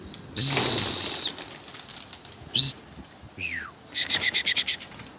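A pigeon takes off with a rapid burst of clapping wingbeats near the end, after a sharp high whistle and a short chirp.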